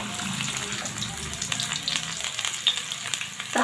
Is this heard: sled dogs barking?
no